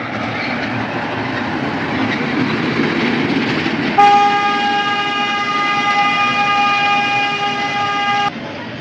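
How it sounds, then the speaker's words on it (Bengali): Toy train in a park within the Radhakrishna temple complex at Panchalingeswar, Balasore, rumbling past close by, then a long, loud, steady multi-tone horn toot about four seconds long that cuts off sharply. "এই দেখুন টয় ট্রেনটা আসছে।"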